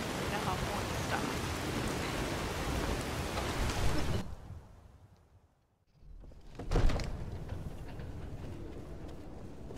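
Rain falling in the video game Skyrim, a dense, steady hiss of downpour that briefly drops away to near silence mid-clip before swelling back in.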